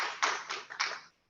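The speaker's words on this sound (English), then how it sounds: "They're applauding." A small group of meeting participants at a leadership seminar gives a brief, faint round of applause, just a few scattered claps heard from a distance in a quiet room.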